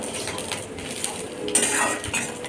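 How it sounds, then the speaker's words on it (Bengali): An egg is beaten by hand in a bowl for an egg butter Maggi, with quick clinking scrapes of utensil against the bowl running steadily throughout, close and moderately loud. "তার জন্য ডিমটাকে ভালো করে ঝুড়ো করে নিচ্ছি"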